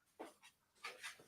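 A dog whimpers and whines in a few short, faint bursts, close by but quiet, with no one speaking over it.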